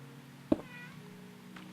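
Bandit, a pet cat, lets out a single short, squeaky meow, faint and close, over a low steady background hum with no talking.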